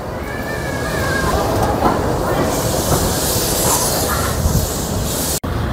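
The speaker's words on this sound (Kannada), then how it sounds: "ಸ್ಟೀಮ್ ಇಂಜಿನ್ ನೋಡಕ್ಕೆ ಬಂದಿದ್ದೀವಿ" Steam locomotive of the Ooty toy train on the Nilgiri line, a loud, close, continuous hiss and rumble with chugging texture, ending in an abrupt break.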